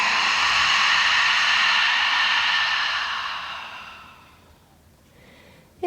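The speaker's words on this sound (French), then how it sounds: "Une profonde expire par la bouche." A long, deep breath pushed out through the mouth during a calm yoga session, a steady airy rush that fades gradually over about four seconds, near and alone.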